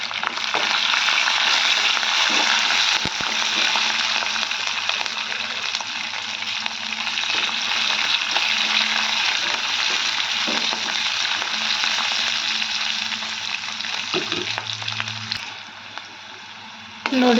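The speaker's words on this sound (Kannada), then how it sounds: "ನೋಡಿರಿ ಮೆಣಸಿನ್ಕಾಯಿ ಸ್ವಲ್ಪ ಎಣ್ಣೆಗೆ ಚಂದ ಫ್ರೈ ಆಗ್ಯಾವ" Green chillies, the mild bajji kind, frying in oil in a pan for upma, giving a loud, steady, close sizzle that runs on and eases slightly near the end.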